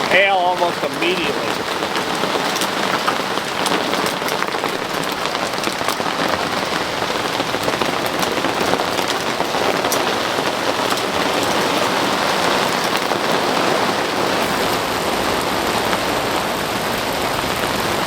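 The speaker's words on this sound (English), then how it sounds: "Hail almost immediately." Hail batters a camper during a storm in a dense, loud, unbroken clatter of hard pellets on the roof and walls, with a faint voice briefly audible near the start.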